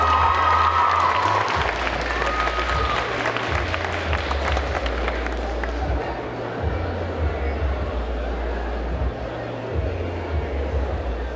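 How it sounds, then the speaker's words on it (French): Loud, sustained applause from a convention audience, with clapping and some cheering filling the whole stretch, over a low steady musical hum. "Applaudissez très très fort Ezra Anaki."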